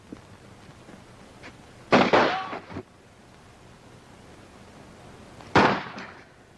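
Two sharp gunshots from a 1940s army film scene, each a loud, close crack with a short ringing tail, a few seconds apart over quiet room tone.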